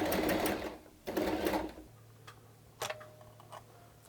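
Sewing machine stitching a joining seam on a ruffled dress, with two rapid bursts of needle chatter followed by quieter ticks and clicks as the machine slows and stops.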